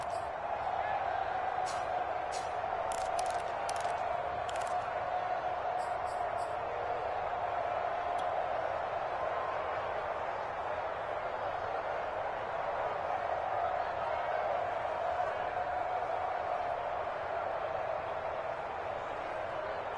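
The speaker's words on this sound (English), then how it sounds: "the crowd getting into it as we come up on a big 3rd down" Steady stadium crowd roar fills a PS4 football video game ahead of a big third down, a continuous, even wash of massed voices with a few faint sharp ticks early on and no clear peaks.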